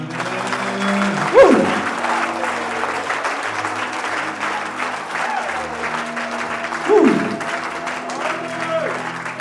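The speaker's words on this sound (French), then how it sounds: "Est-ce qu'on peut acclamer?" A church congregation at a French-language service claps in a sustained, dense burst of applause that fills the room, with voices speaking and calling out over it throughout.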